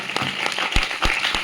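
Loud clapping from a church congregation, broadband and dense with a few sharp individual claps standing out over roughly a second and a half.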